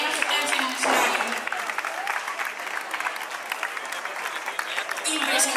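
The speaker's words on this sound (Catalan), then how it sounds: "Per favor, un fort aplaudiment." Audience applause at a modernist fair's outdoor popular dinner and costume contest, a steady crowd clapping for a couple in period dress, sustained and fairly loud throughout, with a voice over a loudspeaker briefly heard near the start.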